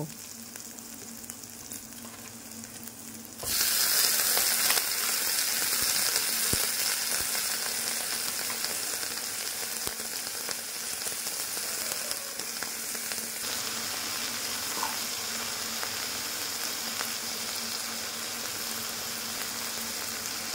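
Spinach tipped into a pan of softened frying eggplant for a spinach curry, with a sudden louder surge of sizzling a few seconds in that then settles into a steady, close crackle with occasional stirring.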